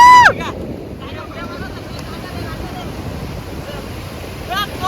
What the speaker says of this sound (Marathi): आली टॉपची लाट आली, टॉपची बघा